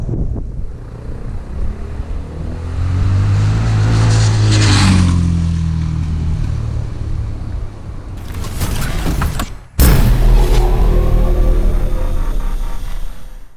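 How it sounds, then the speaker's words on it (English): A 2022 Honda XR650L single-cylinder motorcycle engine drones steadily while riding, with a low rumble under loud wind buffeting the microphone, pitch rising and falling through gear changes, no talking. "we are going to be taking a ride on the 2022 Honda"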